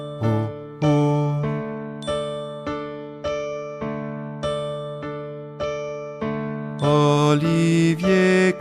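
Bright chiming bell-like notes ring out one after another in a steady rhythm within a French children's phonics song, rising into a denser, louder run of tones at the end.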